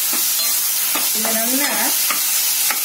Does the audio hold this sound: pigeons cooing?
no